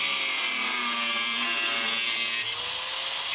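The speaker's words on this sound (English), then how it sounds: "let's just cut it out. Found some protective glasses, got my angle grinder" An angle grinder whines steadily, loud and close, while cutting out part of a Golf Mk2 car for a shifter setup, with a continuous high-pitched grinding tone throughout.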